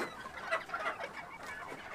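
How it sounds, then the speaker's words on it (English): Small Sebright bantam chickens clucking, a soft cluster of short overlapping clucks and murmurs at close range, faint and continuous without speech. "I got a Seabright rooster"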